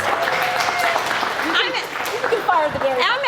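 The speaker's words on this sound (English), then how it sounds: "A round of applause, everybody, for our winners, our judges" A crowd at a Cal-Mex cook-off claps for the winners and judges, steady applause with cheers and voices mixed in.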